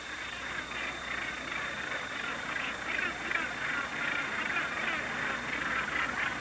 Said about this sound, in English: This rock island is home to thousands of gannets and other seabirds.